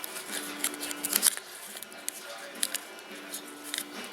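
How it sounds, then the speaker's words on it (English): Masking tape wrapped around a wire connector during a car headlight HID conversion: a few quick crackling tape pulls and light rustling handling noises, heard close up. "Take some masking tape, wrap around the connector good."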